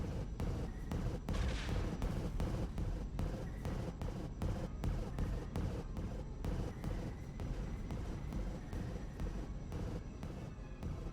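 Artillery fires repeatedly in a war video game, a rapid run of heavy booming blasts packed close together over a dense rumbling din, with no talking.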